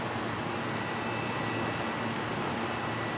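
A Velocity airliner departs Brisbane Airport from runway 01 right, a steady, distant broadband jet roar that holds evenly throughout with no voices.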